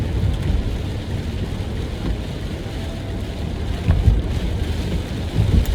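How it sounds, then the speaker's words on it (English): Steady rain falls while driving, with a soft, continuous wash of noise, a few low rumbles rising underneath, and nobody speaking. "We're getting some rain."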